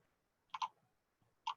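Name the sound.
pressing the tab key on a computer keyboard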